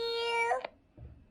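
A short electronic cat meow played by a kids' Alcatel TCL Movetime MT40 X smartwatch, a single bright synthesized call followed by a low murmur.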